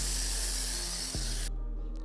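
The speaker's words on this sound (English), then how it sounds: "Once we have applied the lubrication to the paintwork, it's safe to go ahead with the clay towel." Aerosol lubricant spraying onto car paintwork before claying with a clay towel, a steady close hissing spray that cuts off sharply partway through.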